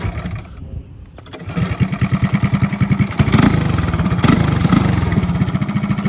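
A small engine controlled by newly adjusted throttle pedals revs up from a quiet start, climbing into a steady buzzing drone that rises further near the end, close and loud with no talk.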